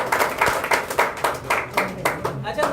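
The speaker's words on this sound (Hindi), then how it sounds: "तो एक बार अपने लिए तालियां बजा दो।" Audience clapping at an indoor Pearlvine International business presentation in Mumbra, a steady ragged patter of many hands with loud pulses, close and lively, mixed with crowd voices.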